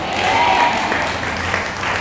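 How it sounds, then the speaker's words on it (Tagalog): Congregation at a Wednesday church group meeting in Hong Kong applauding, a steady, full wash of clapping from many hands held at an even level for two seconds. "Yung mga palakpak niyo, tagumpay niyo"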